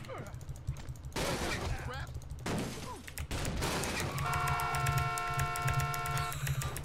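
Gunfire in a GTA roleplay game, bursts of loud rapid shots under excited shouting voices, with a sustained horn-like tone blaring in the later seconds.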